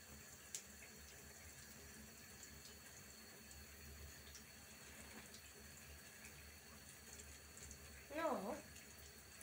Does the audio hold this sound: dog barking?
no